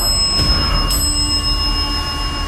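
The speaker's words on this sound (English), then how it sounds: "Ring the bell." A school bell rings steadily and loudly, its sustained metallic tone holding throughout over a dense background of noise.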